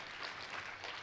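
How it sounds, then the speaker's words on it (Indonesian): A church congregation claps in a dense, soft burst of applause, heard faintly and steadily throughout with no talking. "Tepuk tangannya pula yang paling meriah buat Tuhan kita."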